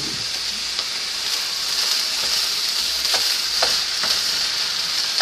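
Shrimp fried rice fries loudly in a buttered pan as it is stirred from the bottom up, giving a dense, even sizzle with faint scraping ticks from the utensil.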